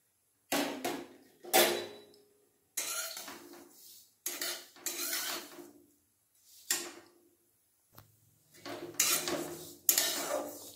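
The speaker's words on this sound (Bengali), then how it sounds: "কড়াই গরম হয়ে গেছে, এরপর তিল আর খোসলাটা দিয়ে দেবো।" Sesame and khosla seeds hit a hot wok in a series of separate bursts, each a bright rattling, clinking pour, about eight in all with silent gaps between.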